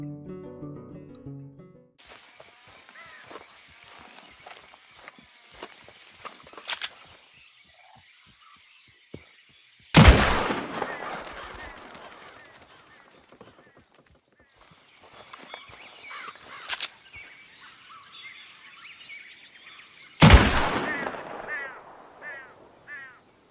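Two loud, sharp gunshots fired into the air in the video game Red Dead Redemption 2 ring out about ten seconds apart, each echoing away, with a few fainter cracks and soft outdoor ambience between them.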